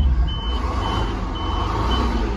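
A 1984 GMC diesel dump truck engine runs steadily at idle, a loud, even low rumble with a faint high beeping tone repeating over it.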